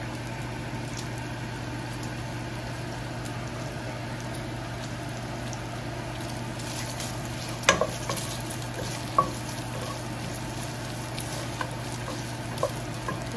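Pork browning in a pan for a coconut laing stew, with a steady, even sizzle throughout and a few sharp clinks of a utensil stirring near the end.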